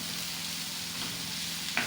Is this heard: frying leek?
yes